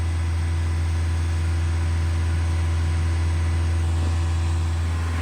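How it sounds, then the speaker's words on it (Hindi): A Mahindra XUV700 diesel engine runs steadily at 2500 rpm during DPF regeneration, giving a loud, continuous drone with a strong low hum that holds unchanged throughout, with no voices. "इतनी दूर से इतनी आवाज़ आ रही है 2500 आरपीएम में, जब डीजल इंजन ड्राइव होता है XUV 700 का"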